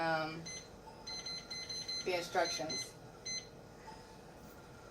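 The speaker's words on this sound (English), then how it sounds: "we're going to go ahead and set our timer for 8 minutes" Timer being set for a lab test, giving a series of short electronic beeps in steady rhythm, close and clear, while a person talks.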